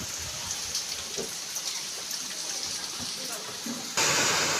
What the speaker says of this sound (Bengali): এই বৃষ্টির ওয়েদারে